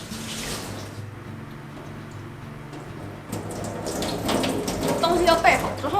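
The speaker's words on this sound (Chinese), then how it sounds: "把它稍微冲洗干净" Running tap water rinses soybean sprouts with Chinese herbs—astragalus, angelica root, red dates and goji berries—in a kitchen sink, a steady splashing stream that grows louder and busier toward the end, with clattering handling of the ingredients.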